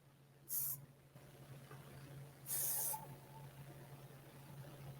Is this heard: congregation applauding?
no